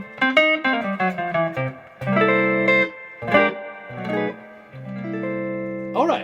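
A 1965 Fender Stratocaster played through a 1965 Fender Pro Reverb amp with an original Jensen C12N speaker and no pedal. Clean notes and ringing chords come in short phrases, close and fairly loud.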